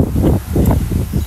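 Strong gusts of wind in a windstorm buffet the microphone outdoors with a constant loud rumbling roar, surging and easing in waves.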